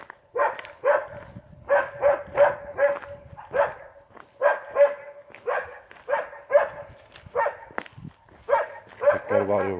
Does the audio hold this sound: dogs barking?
yes